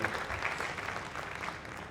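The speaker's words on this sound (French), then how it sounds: "Est-ce qu'on peut applaudir pour ces jeunes très voyants" An audience applauds a group of young people, a moderately loud, continuous round of clapping from a crowd that gradually eases off.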